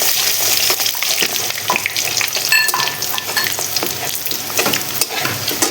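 Whole cumin and crushed garlic sizzle loudly in hot oil in a pan, a dense crackling hiss with frequent spatula scrapes and stirring clatter, close and steady throughout.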